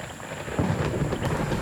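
Heavy rain in the Amazon with thunder, a steady wash of rainfall and a low rumble swelling partway through, no voices.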